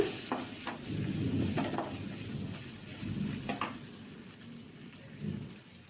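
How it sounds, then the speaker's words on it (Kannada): Cut onion frying in oil for a young jackfruit curry, a steady sizzle with intermittent stirring scrapes and clinks, close and moderate in volume. "ಫ್ರೈ ಆದಮೇಲೆ ಒಂದು ಈರುಳ್ಳಿನ ಕಟ್ ಮಾಡಿಬಿಟ್ಟು ಅದಕ್ಕೆ ಹಾಕಿಬಿಟ್ಟು ಫ್ರೈ ಮಾಡ್ಕೊಳ್ಬೇಕು"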